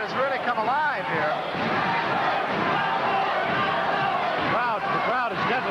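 Boxing arena crowd at the Wilfred Benitez vs Carlos Santos WBC junior middleweight bout roaring steadily in favor of Santos, a loud continuous wash of cheering and shouting with a commentator's voice over it.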